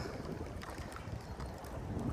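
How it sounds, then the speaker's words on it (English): Gusty wind buffets the microphone in a steady low rumble at a lakeshore, with faint water sloshing underneath and no voices. "it's quite windy"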